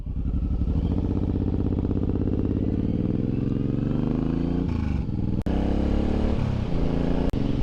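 A Suzuki M109R motorcycle cruises along a road, its engine droning loud and steady with shifting pitch, a couple of sharp knocks or bumps breaking through toward the end.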